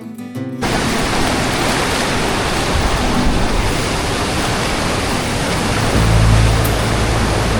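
The Mini Devkund waterfall near Bhorgiri roars with heavy, high-pressure rushing water, a loud, dense and continuous wash close by with no talking.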